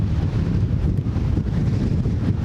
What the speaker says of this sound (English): you guys can see it's extremely windy right now